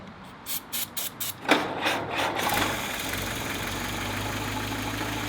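A 1948 Willys Jeep engine cranks over in several quick bursts, then catches and settles into a steady, slightly rough run as it warms up. The engine is close and there is no talking.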